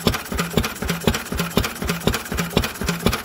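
A Lister B stationary engine runs off choke at a steady idle, a close, even thudding beat of regular firing pulses with no talk over it.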